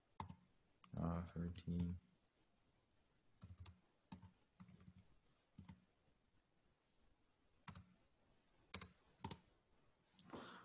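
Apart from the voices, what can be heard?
typing numbers on a computer keyboard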